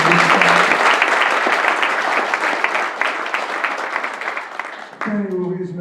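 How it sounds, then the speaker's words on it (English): An audience at a University of Kentucky event claps steadily for several seconds, the dense applause fading slightly before a voice begins speaking near the end. "Would you give Bill a nice round of applause"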